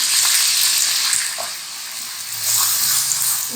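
Chopped onions sizzling in hot oil left over from frying chicken for malai chicken, a loud, steady broadband hiss with faint stirring clicks, close up and with no voices.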